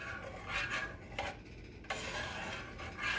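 Spoon scraping and rubbing around a pot as Sure-Jell pectin is stirred into homemade blackberry jam, a continuous close rasping with slight surges, no voices.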